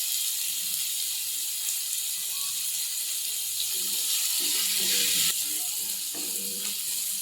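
Two large onions with salt frying in a pan, a steady close hiss of sizzling throughout with occasional soft stirring knocks.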